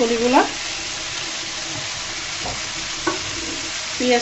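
Steady, even sizzling of eggplant and onions frying in oil in a pan, with a brief voice at the start and a few light stirring clicks.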